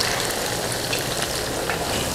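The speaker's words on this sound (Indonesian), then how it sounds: "Jadi kita mesti menggoreng sampai dia berkulit dulu, baru kita balik." Batter for corn-free fritters (bakwan jagung made without corn) frying in oil over medium-low heat: a steady, close, dense crackling sizzle with scattered sharper pops, continuous and without voices.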